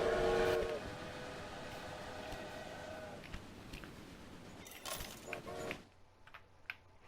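A train rolls through a prairie railway video game, opening with a loud whistle blast over a rumbling run, then settling into steady rolling noise with a few sharp clanks before fading out.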